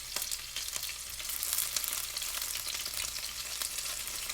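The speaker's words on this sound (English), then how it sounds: "it's starting to spatter because of the wetness that is the chicken" Steady hot-oil sizzle of wet-marinated chicken frying, with sharp spattering pops crackling throughout, close and fairly loud, no voices.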